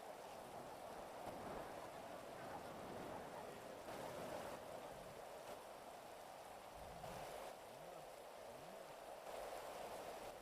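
Steady rainfall in a GTA role-play game world, a constant broadband hiss of drops on surfaces that runs through the whole stretch, with a few faint low warbling tones passing beneath it near the end.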